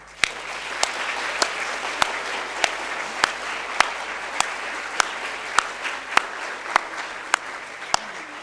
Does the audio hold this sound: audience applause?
yes